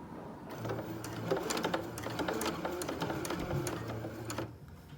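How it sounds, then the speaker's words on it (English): Home sewing machine running a short back stitch at the start of a seam on fabric for a bunny, a steady whirring motor with rapid needle clatter, close and continuous for several seconds, no talk. "You always want to do a little back stitch at the beginning, and that secures your stitching."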